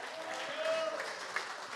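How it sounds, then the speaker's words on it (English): Audience applause at the 2024 Latin Living Legends Awards ceremony: a brief, moderately quiet wash of clapping from a crowd, steady and unbroken. "Another big round of applause"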